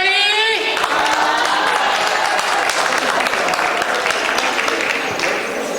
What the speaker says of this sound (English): make sure you give them a round of applause